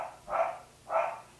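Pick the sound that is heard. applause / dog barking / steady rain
dog barking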